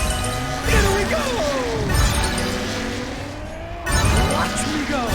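Race car engines whine and swoop in the Cars 2: Fast as Lightning video game, with pitch rising and falling as cars roar past, loud and continuous with crashing bursts and game music underneath.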